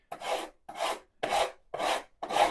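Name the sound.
filing a guitar fret with a fine rasp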